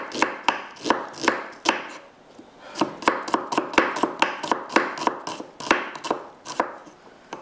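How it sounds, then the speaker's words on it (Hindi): Knife chopping an onion finely on a cutting board, with a steady run of quick, crisp chops close up throughout, no talking. "मैं एक प्याज से लगाती हूँ बारीक कटिंग करके"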